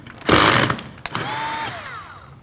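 Screws being driven out of the connected plates of an electric heater coil: a loud, close whirring burst, then a sharp click and a quieter mechanical whine that winds down, with no talking.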